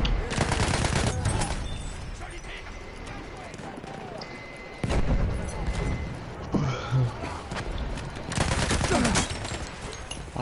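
Battlefield 1 gunfire comes in bursts of rapid shots, loud and close, separated by quieter stretches of game ambience and scattered distant cracks.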